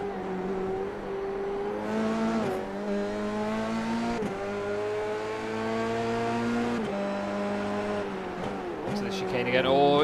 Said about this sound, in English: it sounded like he locked up the brakes a little bit there